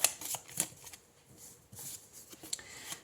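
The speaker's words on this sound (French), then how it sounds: "Alors, on va prendre une deuxième carte." Oracle cards shuffled by hand in a few quick riffling bursts with soft rubbing between, close and fairly quiet, no voices.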